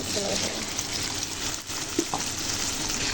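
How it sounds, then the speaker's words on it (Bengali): Chopped onions sizzle in hot soybean oil in a pan, a steady close hiss and crackle with a few faint stirring clinks, heard alone without talk. "এবার আমি পেঁয়াজটাকে লাল করে ভেজে নেবো।"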